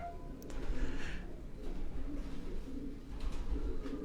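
A pigeon held in the hand coos softly in a low, continuous murmur, with faint rustling over steady background noise.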